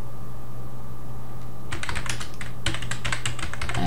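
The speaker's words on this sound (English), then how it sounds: "you can type in whatever you like" Rapid keystrokes on a computer keyboard as a title is entered in OpenShot video editing software, starting after a quiet moment and continuing in quick uneven bursts over a steady low hum.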